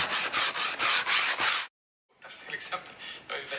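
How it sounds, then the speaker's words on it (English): Hand sanding on a painted boat hull before varnishing, a fast run of rhythmic rasping strokes followed by a short silence, then quieter, lighter scuffing with soft talk in the background. "now I'm just doing a final little sand before the first coat of varnish goes on this morning"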